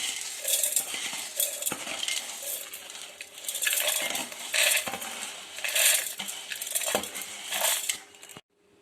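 Roasted idli podi ingredients, a dry spice and lentil mix, tipped into a steel mixer jar, giving close scattered rattles and clinks with pattering grains in repeated bursts, then a sudden stop.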